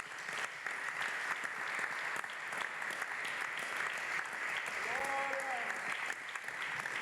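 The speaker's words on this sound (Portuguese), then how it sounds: "Vamos aplaudir a esse Deus." A church congregation claps together in a steady, full burst of applause that fills the room, with a brief sung or shouted voice rising briefly over the clapping near the end.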